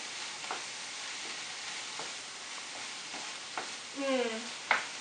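Garlic and onions sizzle steadily in a frying pan while a spoon stirs them in a few soft scrapes, with a brief clatter near the end; close by, no talking.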